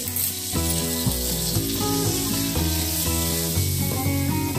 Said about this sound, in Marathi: तर आपण हे सर्व तूप ह्याच्यामध्ये घालून घेऊया